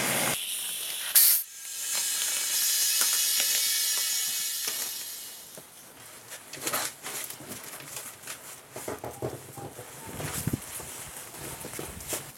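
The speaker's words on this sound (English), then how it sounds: "you can hear the air compressor running" An air compressor runs in a workshop with a steady airy hiss that rises and falls, joined by scattered mechanical clicks and rattles nearby.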